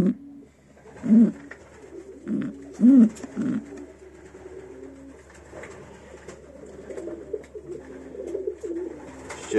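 Pigeons coo repeatedly nearby, a series of low rolling coos in uneven bursts that turns into a softer, continuous murmur of cooing later on.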